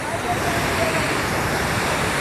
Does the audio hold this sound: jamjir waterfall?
yes